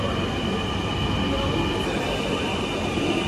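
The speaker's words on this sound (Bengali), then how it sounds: "প্রথমবার দেখলাম যে 2টা প্ল্যাটফর্মে 2টা ট্রেন একসাথে আসলো" Loud, constant rumbling roar of trains arriving together at two platforms of a Dhaka station, with a faint high whine over the steady mechanical noise.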